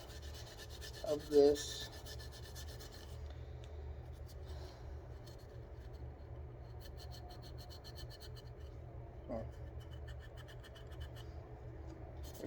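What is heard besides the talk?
scrubbing a gun slide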